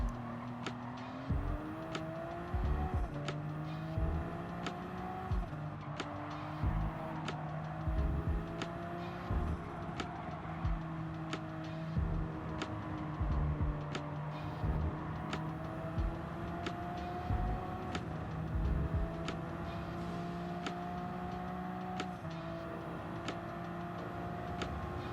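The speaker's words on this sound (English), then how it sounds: "With 770 horsepower, I can catch most cars in the field" A 770-horsepower race car engine in Gran Turismo 7 screams through repeated upshifts and downshifts, the loud, continuous engine note rising and falling in pitch throughout, with no talk.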